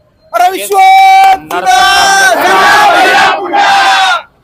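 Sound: supporters' crowd cheering after an election victory

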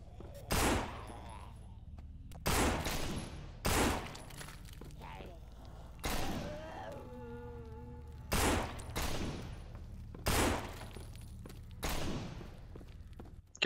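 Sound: 357 Magnum gunshots in No More Room in Hell video game

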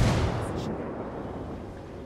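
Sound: grenade explosion in video game Ghost War

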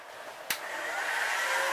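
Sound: heating Saito 45S engine case to press in bearing

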